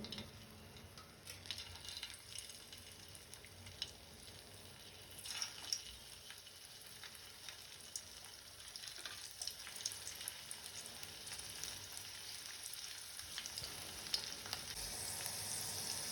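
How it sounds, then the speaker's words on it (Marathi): Stuffed okra (bharleli bhendi) shallow-fries in a pan with a faint, steady sizzle and crackle that runs throughout, with a few light clinks and no talking. "आता आपण ही भेंडी शॅलो फ्राय करून घेणार आहोत."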